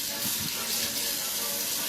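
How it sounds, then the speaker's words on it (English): Tap water runs steadily into a kitchen sink while a knife is washed during jambalaya prep, a continuous close splashing rush with no talk over it. "Meanwhile, I'm going to wash this knife."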